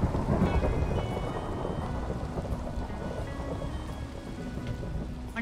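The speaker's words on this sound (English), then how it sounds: "It's a shame it had to rain today." Steady rain and rumbling thunder in the Minecraft SWEM horse-ranch game, a dense, continuous downpour with low rolling thunder throughout, fairly loud and with no voices.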